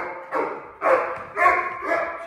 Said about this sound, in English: a nice meaningful bark.